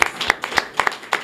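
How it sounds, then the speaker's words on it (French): A handful of people clap at a press event, producing distinct uneven claps at close range, loud and short. "Nous allons applaudir pour lui"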